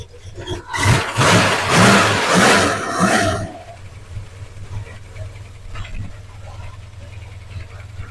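A car engine that hasn't been run for a while starts up with a loud, rough roar for a few seconds, then settles into a steady low idle that continues to the end.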